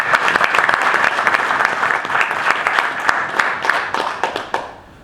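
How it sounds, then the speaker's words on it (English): An audience at a business networking presentation breaks into dense applause, many hands clapping loudly and continuously before tapering off and fading out at the end. "Please give him a applause."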